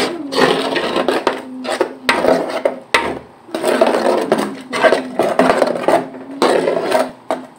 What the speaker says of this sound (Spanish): Le vamos a terminar de moler todo el jitomate.